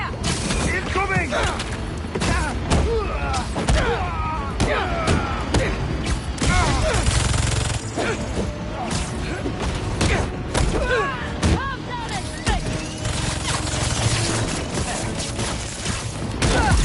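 Bursts of gunfire and heavy mechanical booms in the Spider-Man 2 video game, loud and sustained across the whole stretch, mixed with shouting voices and combat noise.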